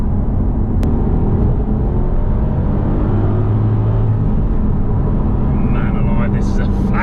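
A manual Aston Martin Vantage AMR59 drives over a road, its engine a loud steady low rumble with tyre and road noise inside the cabin, and a person talks over it.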